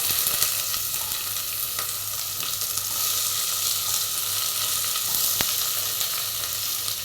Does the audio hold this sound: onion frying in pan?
yes